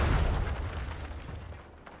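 Ship cannons in the DarksideRP Royal Navy game let off a deep, booming volley that rumbles loudly at first and fades away over two seconds, with no voice over it.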